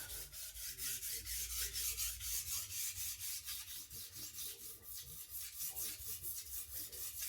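A Takayuki Shibata finishing whetstone, which feels coarse, has a knife worked over it at around 10 degrees. The rasping scrape rubs back and forth in a steady, close rhythm of repeated strokes with no talking.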